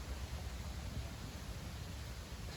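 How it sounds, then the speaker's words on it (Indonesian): A constant roar of strong wind buffeting the microphone outdoors at an air rifle accuracy test, a dense low rumble that never lets up. "Ini anginnya sangat kencang"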